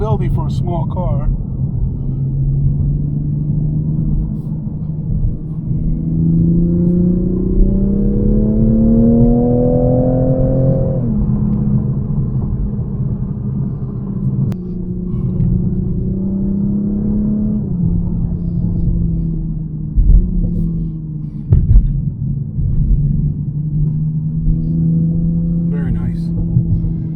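A 2020 Toyota Supra is driven hard on a track, its engine rising in pitch through long pulls and dropping at shifts and lifts, with a loud, steady in-cabin rumble throughout.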